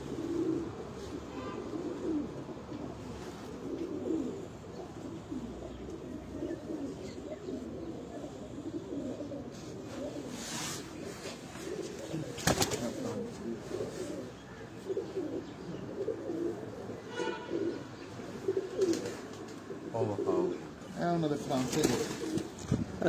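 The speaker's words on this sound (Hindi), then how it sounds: "उनके घर के ये कबूतर, ये जितनी भी फीमेल है, ये मादाएं हैं" Breeding pigeons at a loft in Gujrat coo steadily in low rolling calls throughout, close by, while someone talks over them.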